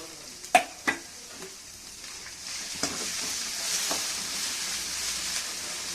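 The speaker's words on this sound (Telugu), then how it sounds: "కొద్దిసేపు వేయించుకుందాం పప్పు" Dal and green chilies fry in a pan, a soft steady sizzle after a few sharp clinks and scrapes of stirring up close.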